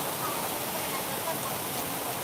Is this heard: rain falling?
yes